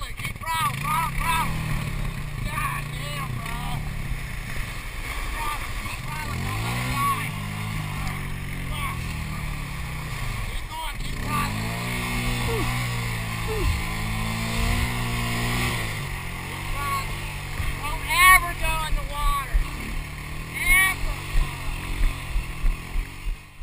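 A boat engine throttled hard, droning loudly and rising and falling in pitch across repeated revs, with splashy knocks near the end and voices talking over the engine.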